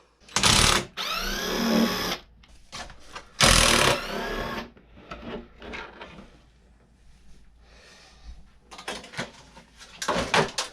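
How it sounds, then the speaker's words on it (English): Cage hinge bolts coming out of a Losi LMT RC truck: several loud, close bursts of a small driver whirring, separated by quieter clicks and handling noises, with no one talking. "I'm going to go ahead and pull these two bolts out of the cage hinge here and just take the body right off."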